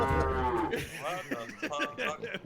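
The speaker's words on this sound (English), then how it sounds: "The cows came home, people." Cows mooing in a video game, one long low moo followed by several shorter lowing calls, fairly close and clear.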